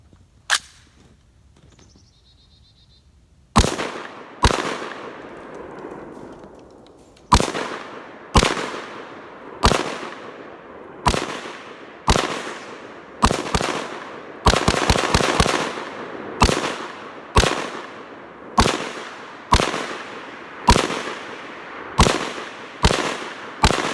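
A 7.62x39 AR rifle fed from a 30-round C Products magazine fires about twenty sharp, loud shots, spaced roughly a second apart with a rapid burst midway, each crack trailing off into outdoor echo.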